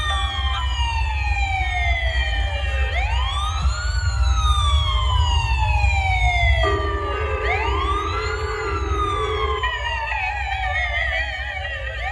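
A wailing siren sweeps up and down repeatedly over steady traffic rumble, loud and close, with a second siren tone overlapping midway.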